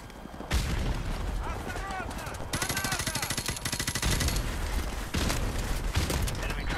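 Call of Duty Modern Warfare combat with grenade blasts and sustained automatic gunfire, loud and continuous with sharp bursts and heavy booms throughout, a voice occasionally heard beneath the shooting.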